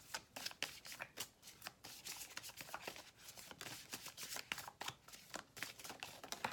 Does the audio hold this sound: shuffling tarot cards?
yes